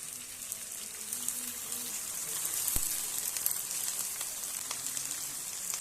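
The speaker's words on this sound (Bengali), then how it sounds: "এখন আমি পুঁইশাকটা দিয়ে দিচ্ছি।" Malabar spinach is dropped into vegetables frying in a pan for a fish-head chorchori, giving a steady, fairly quiet sizzle with a brief sharp click near the middle and no talking.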